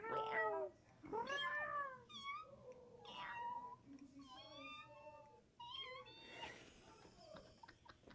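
Several people imitate cat meows with their voices, overlapping one another in a rapid string of high, wavering calls that carry through most of the stretch, with a faint steady hum underneath.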